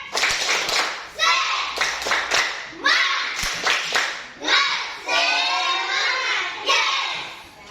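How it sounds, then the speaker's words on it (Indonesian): Schoolchildren in a classroom do a rhythmic spirit clap, bursts of patterned hand claps between their shouted chanting, loud and close. "Coba kalau begitu coba dulu tepuk semangat."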